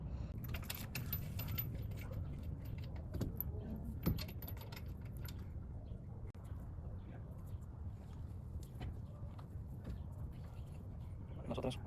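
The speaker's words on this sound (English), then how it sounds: "now we're gonna put the lug nuts back in. First, we're gonna tighten them with the hand and then with the tool" Steel lug nuts go back onto a car wheel during a tire change, first spun on by hand and then tightened with a tool. Light metallic jingles and clinks come and go over a low background, with voices talking throughout.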